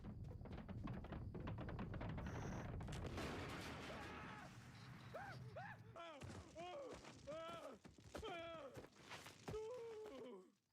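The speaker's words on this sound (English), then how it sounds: "Your homemade liquor is exploding again." Homemade liquor bottles bursting in a string of loud pops and bangs over a dense noisy bed, with comic boinging and warbling sounds in the second half.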